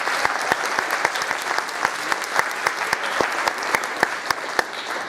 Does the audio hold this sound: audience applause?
yes